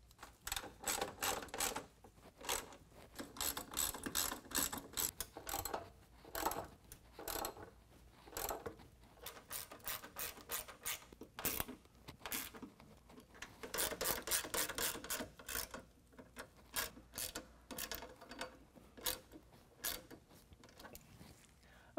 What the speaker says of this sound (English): Then we can come back and tighten down this hardware using a 10 millimeter on both sides.